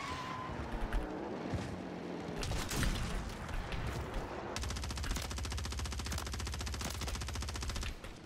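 Rapid automatic gunfire in the video game Warzone: scattered shots and bursts at first, then a dense, steady machine-gun stream that runs loud for several seconds before cutting off.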